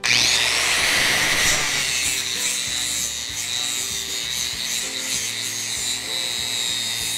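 A 4.5-inch angle grinder with a 24 grit disc shaping a horseshoe gives a continuous loud, hissing, abrasive grind close by, steady throughout.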